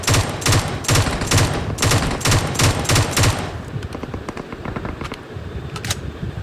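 Automatic weapon fire in PUBG Mobile comes as a rapid run of loud, evenly spaced bursts for about three seconds, then gives way to scattered quieter shots and clicks.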